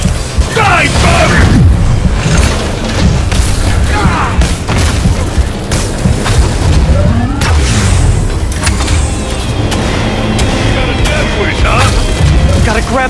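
Repeated booming bomb explosions and crashing impacts during a Marvel's Spider-Man video game boss fight with Sable, loud and continuous, layered with mechanical whirs and game voices shouting over the action.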